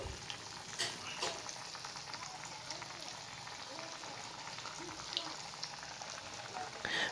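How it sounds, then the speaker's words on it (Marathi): Steamed slices deep frying in hot oil over a medium flame give a steady, fairly quiet crackling sizzle that runs without a break, with scattered tiny pops. "इथं आपण याला डीप फ्राय करून घेत आहोत"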